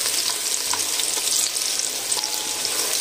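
Mixed vegetables frying in a pan with browned garlic and ginger for vegetable pulao, a dense continuous close sizzle with faint stirring crackles throughout.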